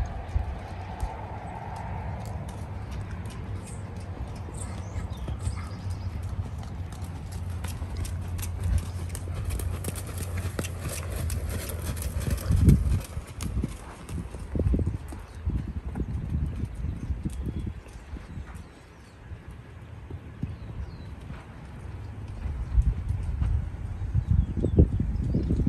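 A horse ridden through a pattern class at a show, hooves clip-clopping on the ground in an irregular, moderately close rhythm, with wind-like noise and faint background sounds throughout.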